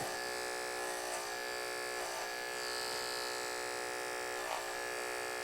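Electric hair clippers shave over a hard part during a comb-over haircut, giving a close, continuous buzzing hum with slight swells as the blade moves across the head.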